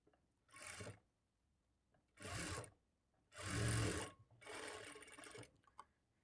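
A sewing machine stitches a hooks patti on cloth in four short, faint runs of rapid mechanical whirring, separated by quiet pauses.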